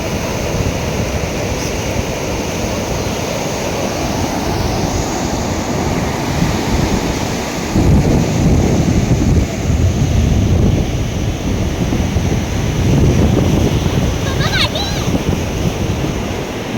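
Ocean waves break and wash onto a beach at Gavkhadi on the Konkan coast with a continuous loud rushing roar, a bigger surge building midway, and wind buffeting the microphone.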